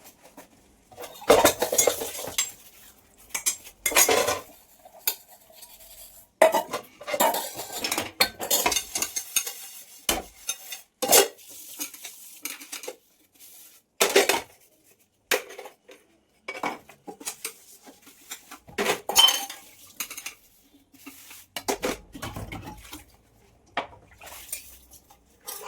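Dishes being washed in a home kitchen: pots, plates and cutlery clink and clatter in irregular bursts separated by quiet pauses, close and fairly loud, with no talking.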